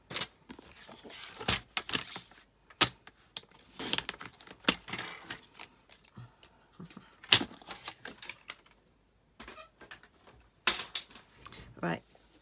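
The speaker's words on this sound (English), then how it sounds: "I'm going to cut my piece of cardstock down a little bit" Scissors or a trimmer cut down a piece of cardstock for a hedgehog card, giving sharp scattered snips and crisp paper rustles in irregular bursts, fairly close, with brief pauses between.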